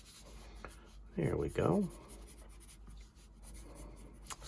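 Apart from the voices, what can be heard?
Blackwing Palomino pencil drawing on paper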